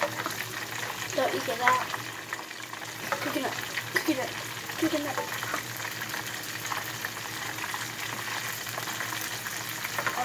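Mac and cheese cooks on a stovetop with a continuous close sizzling, bubbling hiss and occasional scrapes of stirring, while a person talks over it now and then.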